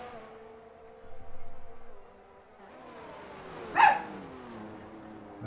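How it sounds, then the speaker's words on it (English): Small dogs give a few muffled barks indoors, a short burst of yaps followed by a sharper single bark, moderately distant and fairly quiet. "Forgive me if you hear my little dogs."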